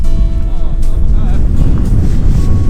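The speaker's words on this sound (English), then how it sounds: "Blow it, wind." Strong coastal wind roars across the links at Ballybunion Golf Club in Ireland, a loud, steady buffeting rush on the microphone throughout, with a faint voice and tonal hum partly buried beneath.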